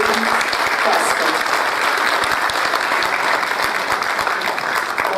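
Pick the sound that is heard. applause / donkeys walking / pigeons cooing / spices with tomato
applause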